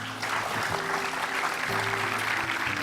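A studio audience on the Indonesian talk show Hitam Putih applauds in a continuous wash of clapping, set over a low steady electrical hum with no voices.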